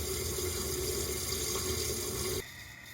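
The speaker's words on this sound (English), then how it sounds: "I had to make sure the hose end was in the tank before turning on the water." Water from a tap runs steadily through a hose into a narrowboat's tank at a canalside water point, a continuous close rushing flow that drops abruptly quieter near the end.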